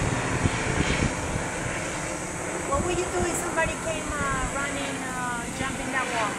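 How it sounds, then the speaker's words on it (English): A helicopter circles overhead on a Sunday morning in Las Vegas, its engine drone rising and shifting in pitch as it passes, with people talking nearby underneath. "Look at the helicopter."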